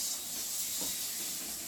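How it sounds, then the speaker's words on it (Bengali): Masala spice mix frying in a pan before mutton goes in, a steady soft hiss of sizzling oil held evenly through a brief moment, with no voices. "এরকম দেখুন মশলাটা ভাজা প্রায় শেষের দিকে"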